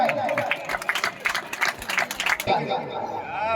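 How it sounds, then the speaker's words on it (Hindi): Applause for the winners of a bhajan singing competition at a prize-giving ceremony in Abdullaganj, with a crowd clapping in dense, uneven bursts under a voice before it thins out. "एक बार जोरदार ताली बजाएं।"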